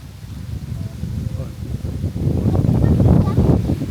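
Strong wind buffets and rumbles against the microphone while a kite is flown outdoors in gusty conditions, loud and continuous, swelling toward the end.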